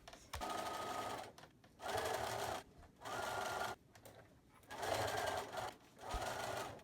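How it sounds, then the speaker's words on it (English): A sewing machine stitches quarter-inch side seams on a charm-square tote bag, running in five or six loud bursts separated by short pauses. "we're going to sew 1/4 inch up each side of the quilt"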